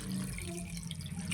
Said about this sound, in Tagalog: hugasan natin ang ating pechay bagyo